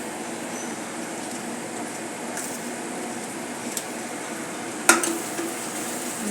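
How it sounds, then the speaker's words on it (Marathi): A ground coconut and sesame paste is stirred into a pan over a low flame while cooking kurma bhaji, giving a soft, steady sizzle with occasional faint scrapes and one sharp utensil clink. "आता यामध्ये आपण वाटण, जे खोबरं आणि तीळ याचे वाटण तयार केलेले होते ते घालून घेऊया."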